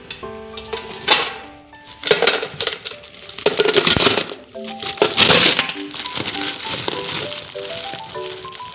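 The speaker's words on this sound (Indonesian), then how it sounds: "Kemudian letakkan es batu dalam kaleng bekas." Crushed ice cubes tumble into a used tin can, making a busy stretch of clinks, rattles and crunching scrapes, close and fairly loud, with no talk.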